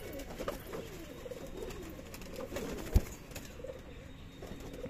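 Pigeons in a home loft, about four or five pairs kept together, cooing softly in low rumbling phrases against a steady background murmur, with a single sharp thump partway through.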